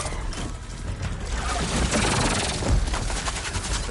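Heavy weapon fire in Horizon Forbidden West, a dense, sustained roar of rapid shots that swells toward the middle and peaks with a loud burst near the end, with no talk over it.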